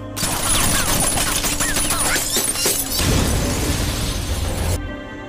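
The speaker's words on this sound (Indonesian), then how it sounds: "menembak polisi tersebut dengan brutal sampai mobilnya meledak" A car explodes: loud, chaotic blasts and crackling burst through continuous heavy noise, like an explosion amid rapid gunfire, sustained for several seconds before cutting off.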